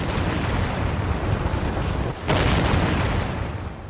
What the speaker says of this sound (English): At 4:40 a.m. on March the 21st, 1918, German artillery began firing.